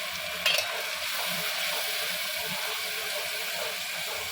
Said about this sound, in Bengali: এই মশলার মিশ্রণটি আমি তেলের মধ্যে দিয়ে দিলাম